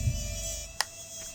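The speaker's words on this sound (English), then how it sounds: "these beetles sound so eerie. I mean, the buzzing itself is so disconcerting." Beetles in the video game Fable Anniversary make a steady, thin, eerie buzz that drones on throughout, with a single sharp click partway.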